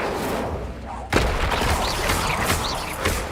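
Incendio fire spell cast in Hogwarts Legacy, a sudden loud burst at about one second followed by a sustained roaring, crackling rush of fiery energy with scattered impacts.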